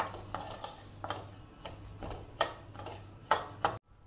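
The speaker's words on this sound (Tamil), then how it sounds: "இந்த பருப்பை நல்லா சவக்க வறுத்தாச்சு." Yellow moong dal is dry-roasted in a pan and stirred repeatedly, with rhythmic scraping strokes and faint crackle that stop abruptly at the end; nobody talks.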